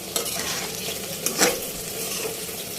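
Food frying in a pan while being stirred, a continuous close sizzle with a few scraping clinks of a spatula.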